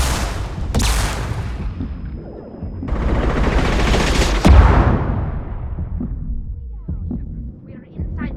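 Gunfire in a Mass Effect 2 firefight: sharp broadband bursts and a sustained roar of shooting with a low hum beneath, loud and close, fading to quieter scattered noise toward the end.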